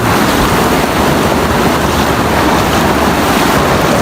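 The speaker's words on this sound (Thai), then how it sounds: "น้ำท่วม น้ำท่วมเยอะนะครับ" Strong rushing water from a high sea tide flooding Yangon, a loud, unbroken roar mixed with heavy wind buffeting the microphone, with no voices over it.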